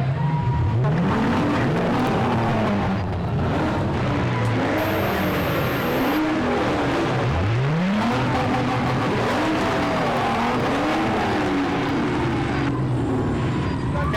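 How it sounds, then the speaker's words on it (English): Several Mustang muscle cars at a 5.0 Mustang club gathering rev their engines outdoors, repeated loud swelling roars that rise and fall, some close and some farther off, overlapping continuously. "let's take a second just to kind of listen to those engines rev"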